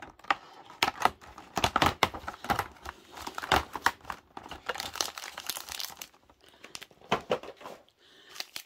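Crinkling and tearing of wrapping as the 24th window of a Milka chocolate advent calendar is opened, a string of sharp crackles and rustles in irregular bursts, close and fairly quiet, with no talking.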